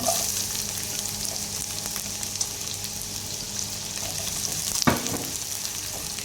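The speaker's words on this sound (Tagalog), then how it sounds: "So igigisa na natin guys yung ating onion." Onion sautés in a pan alongside browned meat for adobong kangkong, giving a steady close sizzle and frying hiss with faint stirring scrapes and one sharp knock near the end.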